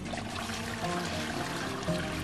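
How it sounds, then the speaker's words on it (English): A Niagara Stealth ultra water-efficient toilet flushes 0.8 gallons of water, giving a brief, even rush of pouring water that stays soft and steady throughout without speech. "Now that flush was quiet."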